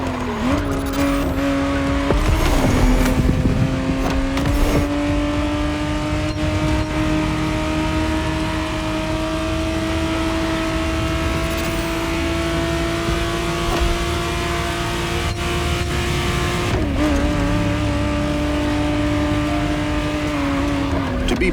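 Ferrari 512 TR, the 1991 reworked Testarossa, driven in The Crew Motorfest, its engine holding a steady sustained drone with brief tire squeal and skidding near the start and a shift in pitch toward the end.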